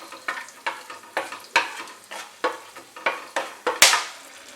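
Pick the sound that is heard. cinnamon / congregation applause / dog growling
cinnamon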